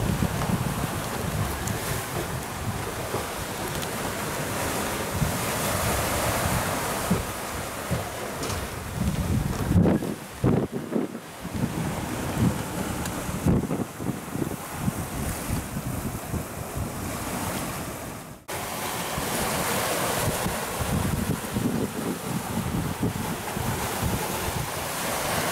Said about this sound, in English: We got the waves behind us, got the wind behind us.